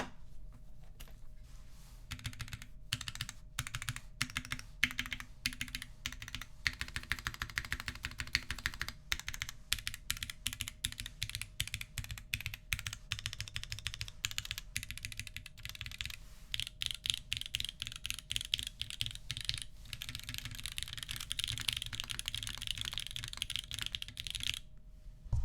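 Steady typing on a custom-built Manta mechanical keyboard, a dense run of crisp clacky keystrokes with slight pauses, close and fairly quiet with no voices.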